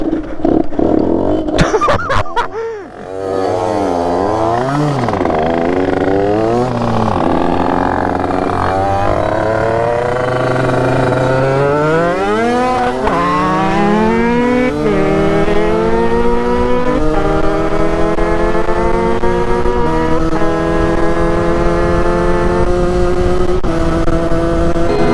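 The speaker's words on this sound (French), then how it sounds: "Je vais te montrer comment on démarre sur l'embrayage en première." Motorcycle with a two-stroke engine pulling away on the clutch in first gear: a few sharp clicks, then a loud, close engine that revs up repeatedly, each climb rising and falling before a long sustained rising howl.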